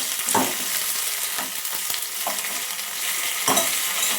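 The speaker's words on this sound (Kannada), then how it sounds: "ಇವಾಗ ಒಣ ಮೆಣಸಿನ್ಕಾಯಿ ಹಾಕ್ಕೊಂಡು ಫ್ರೈ ಮಾಡ್ಕೊಳ್ಳಿ." Dry red chillies frying in hot tempering oil for a quick dal sambar: a steady close sizzle with intermittent scraping stirs, no voices.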